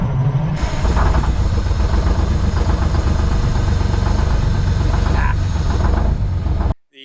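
Detroit Diesel engine of a 1971 Chevy C90 dump truck idling close by, a loud steady low chugging throb with a faint hiss near the start, cutting off abruptly at the end.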